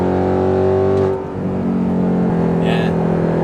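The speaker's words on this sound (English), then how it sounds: "that titanium exhaust with the V8 makes it sound medium" An Audi R8 with a V8 engine and titanium exhaust drones steadily, the tone dropping as revs ease then settling into a lower hum, with a voice talking over the engine.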